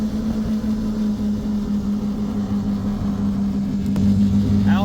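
A tracked Smart car drives along, its engine giving a loud, steady drone with a strong low hum throughout and a slight rise in intensity near the end, with no talking.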